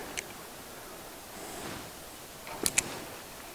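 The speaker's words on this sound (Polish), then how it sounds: "Leśny potok." A forest stream flows in a steady, soft hiss of running water, heard alone and fairly quiet, with a few faint rustles and small clicks near the end.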